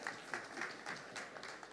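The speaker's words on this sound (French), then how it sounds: "Et vous pouvez les applaudir aussi." Applause from an audience for guests at a French panel on social responsibility in sports event organisation: brief, steady clapping from a crowd, fairly faint and uniform, with no voices.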